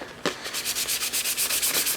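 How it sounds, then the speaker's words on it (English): Rhythmic scratchy rubbing of 600-grit sandpaper on a display base, a steady series of quick back-and-forth strokes, close and fairly loud with no talking. "Every time you keep sanding it with the finer sandpaper, it just gets better and better"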